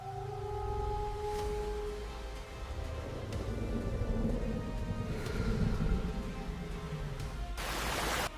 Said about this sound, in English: the sky tore open. Lightning flashed. The rain intensified.